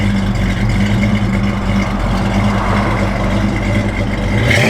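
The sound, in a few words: 1965 Ford Falcon Convertible engine running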